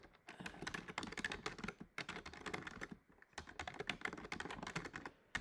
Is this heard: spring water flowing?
no